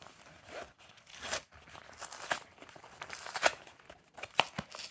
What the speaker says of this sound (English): Let's see if I can open it on video without having to resort to getting the scissors or the knife out